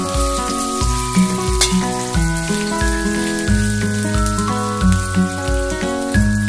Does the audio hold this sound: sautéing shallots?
yes